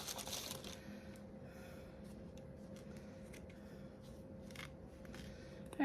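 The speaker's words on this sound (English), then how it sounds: "I think I have the worst scissors ever." Dull scissors snip several times in a quiet indoor room while someone makes Halloween decorations, giving faint, irregular clipping sounds with no talk.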